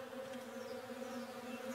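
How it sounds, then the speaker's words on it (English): Bees buzz steadily around a beehive on a tree in the forest of the video game Above Snakes, a constant low droning hum with no pauses, fairly close and moderately loud. "you'll be able to hear the bees"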